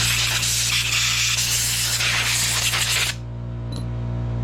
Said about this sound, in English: blow the rest of the water off of there.